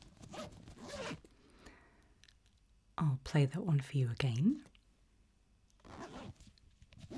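A zipper is pulled in one continuous burst of rapid ratcheting strokes, close and crisp, with a soft spoken voice before and after.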